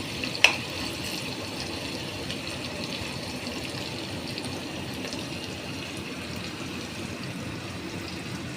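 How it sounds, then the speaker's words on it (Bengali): Chopped onions fry in white vegetable oil in a pan for a bitter gourd, capsicum and chhana dish, giving a steady soft sizzling hiss throughout, with one sharp clink near the start. "পেঁয়াজটাকেও একটু ভাজা ভাজা করে আনবো।"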